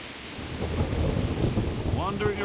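A thunderstorm in the medieval game Kingdom Come: Deliverance, with a low rolling thunder rumble over steady rain, fairly quiet, and a brief tonal sound near the end.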